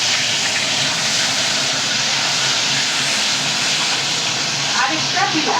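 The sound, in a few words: katla fish frying in oil, sizzling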